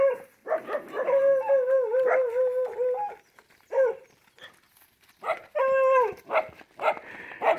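Dogs howling and yipping with long wavering tones, several voices overlapping in two bursts separated by short barks and a pause, while herding cows along a road.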